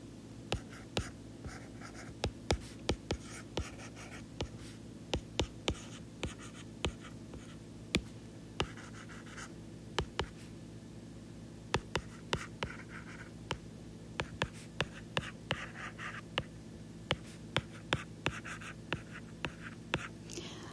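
Pen or pencil scratches across paper while vectors are written out by hand for a math lesson, a close series of quick irregular strokes and taps, with faint whispering-like breath.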